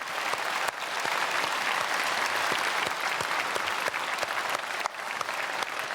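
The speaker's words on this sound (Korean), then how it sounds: "크게 박수로 축복하겠습니다." A large church congregation at a special early-morning service applauds steadily, a dense, continuous wash of clapping that fills the hall throughout.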